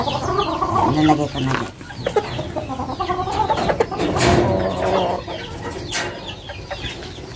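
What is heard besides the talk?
young rooster (stag) clucking in its coop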